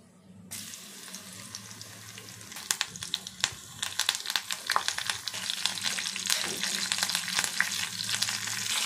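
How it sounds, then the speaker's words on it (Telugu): Tempering of cumin, mustard seeds, curry leaves, dried red chillies, onions and asafoetida frying in oil for pappu charu, a close sizzle that builds into dense crackling pops after a quiet start, with no talk. "ఇంకోవైపు పోపు పెడుతున్నా."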